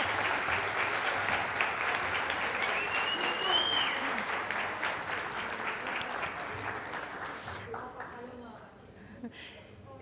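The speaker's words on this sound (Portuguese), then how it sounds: "Uma salva de palmas." A crowd gives a round of applause at an official office opening event, steady dense clapping that holds for most of the span, then thins out and fades near the end.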